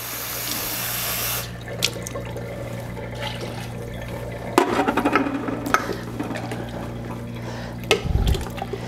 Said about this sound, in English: I'm going to add a couple of cans of water.